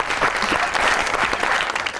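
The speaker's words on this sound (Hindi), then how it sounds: "ताली होनी चाहिए।" Studio audience on a comedy talk show breaks into dense, steady applause, loud and continuous for the whole two seconds with no talk over it.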